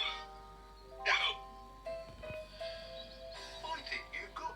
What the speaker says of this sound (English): I think you've got hiccups